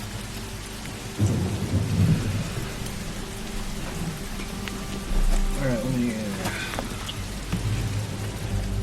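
Heavy rain and rolling thunder from the Walking Dead Season 2 video game form a constant loud wash, with low rumbling bursts, while someone speaks briefly over it.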